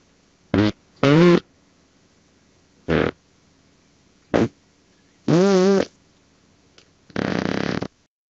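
A series of six separate AI-generated farts, some short blips and some longer wavering ones, loud and close with silence between them.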